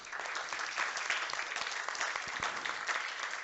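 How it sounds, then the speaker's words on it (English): A ClueCon conference audience gives a warm round of applause for a speaker, steady, dense clapping from many hands without pause, heard close and fairly loud. "give him a big, warm ClueCon round of applause"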